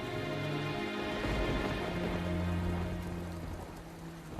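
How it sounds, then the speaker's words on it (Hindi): Steady rain falling outside, a dense continuous hiss of drops on surfaces, moderately loud and even throughout, with faint sustained background tones and no speech. "अर्चना, बाहर बारिश हो रही है।"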